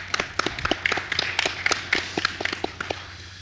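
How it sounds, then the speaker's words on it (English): A small audience at a clan conference claps in a loose, brief round of applause, the individual hand claps distinct and close, fairly sparse rather than a dense ovation, with no talking over it. "Wanted to please give them a round of applause of acknowledgement."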